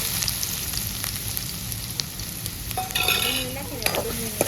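Onion dropped into hot oil for a Bombay duck (bombil) fish curry gives a dense sizzle with stirring clatter, and a brief squeaky tonal sound rises near the end.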